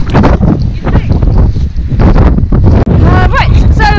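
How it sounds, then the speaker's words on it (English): Strong coastal wind buffets the microphone on an exposed walk between Faversham and Whitstable, loud and gusty throughout, with people talking and a few faint bird calls near the end. "It seems more windy if anything."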